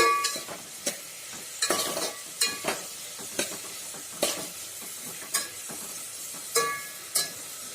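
Ingredients for turmeric gojju are stir-fried in a pan over a low flame, with a soft sizzle under repeated spoon scrapes and taps that land roughly every half second to second, close and fairly quiet.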